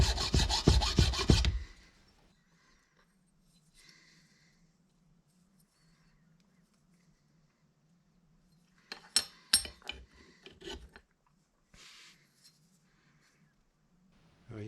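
A file rasps along the edges of a sheet metal plate for a homemade GoPro bicycle mount, in a dense burst of quick strokes, then a near-silent pause and a few scattered scrapes and knocks.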